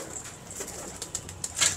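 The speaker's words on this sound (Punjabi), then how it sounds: "ਮੀਆਂ ਸਾਹਿਬ ਵਾਲੇ ਕਬੂਤਰ ਹੀ ਗਏ ਨੇ" Teddy pigeons coo softly in a loft, a faint, brief murmur of cooing with a few light rustles and a louder burst near the end.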